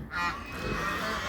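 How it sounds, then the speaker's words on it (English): Geese or similar waterfowl honk outdoors at a golf club, one loud, continuous, raspy honking call up close for just over a second. "probably the birds have disturbed our discussion"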